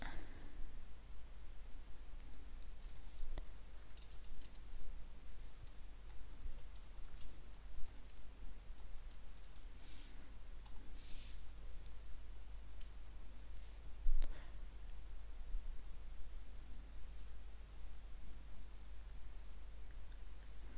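Someone types on a computer keyboard while working in iMovie: quiet clusters of key clicks come in bursts over a low hum, followed by a single sharper click and long quiet stretches.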